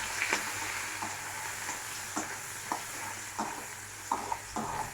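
Chopped onion frying in a pan, with a soft continuous sizzle broken by repeated scraping stirs of a spatula at irregular intervals, fairly quiet and close.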